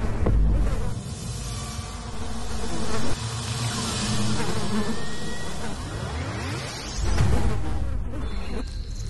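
Insect buzzing, like a mosquito's whine, drones and wavers in pitch across the whole stretch, close and prominent, over a layered musical or effects background.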